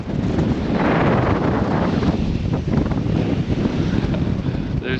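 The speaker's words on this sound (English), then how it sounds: "It is very windy out." Strong wind gusting hard across the microphone, a continuous loud roaring buffet that lasts the whole time with no voices.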